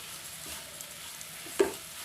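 Sugar is stirred into a pan of semolina and milk on a gas stove for sweet modak, a soft scraping under a faint sizzle with one sharp clink near the end.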